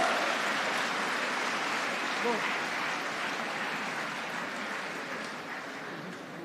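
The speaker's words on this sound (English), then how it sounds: "Let's give them a huge round of applause" A convocation audience applauds a rank holder, producing dense, even clapping from a large hall crowd that continues steadily and eases off slightly toward the end.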